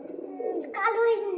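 Pigeons in their new loft, a black pigeon and its look-alike chick among them, give a soft close coo that rises near the end, with a voice speaking over it.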